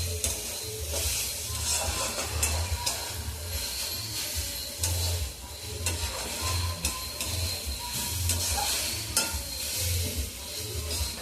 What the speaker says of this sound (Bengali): ভোজবাড়ির মতন শাক ভাজা, পোস্ত বাদাম রসুন